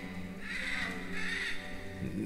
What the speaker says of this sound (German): Ah, Papageien.